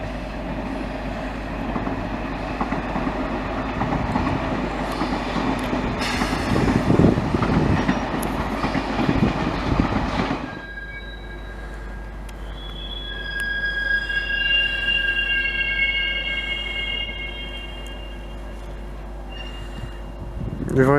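Freight wagons roll through the Le Bourget gravity marshalling yard, with a loud rumble and clatter that stops abruptly, followed by high, drawn-out wheel squeals at a distance and a voice talking now and then.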